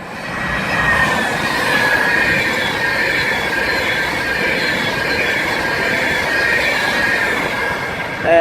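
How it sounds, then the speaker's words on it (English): Passenger train running through Crewe station on the West Coast Main Line, a loud continuous rumble with wheel squeal and rail noise sustained throughout, close by, with no talk. "And here we have a train, I think, approaching platform 5."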